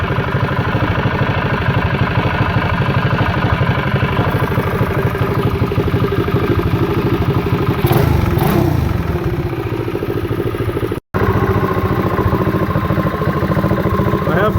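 A high-compression Wildcat 223 engine warms up at idle, close and loud with a steady rapid clattering throb that holds evenly, with a brief change partway through.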